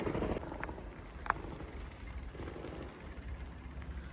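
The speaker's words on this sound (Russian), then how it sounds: "Это шум с моста. Там же ремонтируют дорогу." Steady low mechanical rumble with intermittent clanks and a sharp knock, heavy road machinery stripping asphalt on a bridge at a distance, heard from a forest, no voices.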